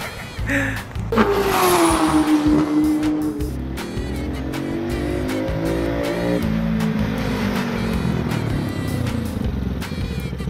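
A close motorcycle engine revs hard and then pulls away, its pitch climbing through several gear shifts with a steady, loud drone.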